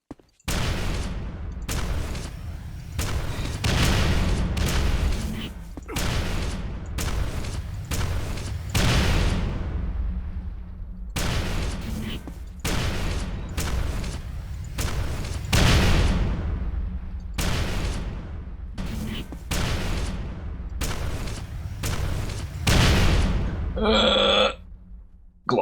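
Rocket launcher blasts in the fast arena shooter Quake 4 boom again and again at a steady pace, loud and close, with deep rumbling tails, and a brief different sound near the end.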